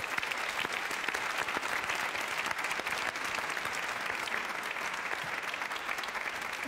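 A studio audience claps for a guest named Karar, dense continuous applause that stays loud and even throughout without any talking over it.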